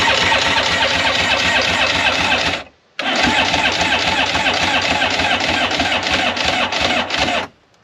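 A Polaris Virage 700 jet ski engine, choke engaged, cranks and runs with a loud, close, continuous roar. It cuts out briefly, catches again for several more seconds, then stops abruptly.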